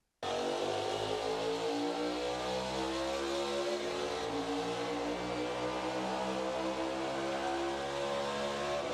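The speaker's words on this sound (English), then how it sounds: "Here's the video of Chase Elliott in the car video screen here of the final lap" In-car view of Chase Elliott's Cup race car on the final lap, engine screaming loud and steady at high revs with pitch shifts as gears change, continuous and close, with no talk.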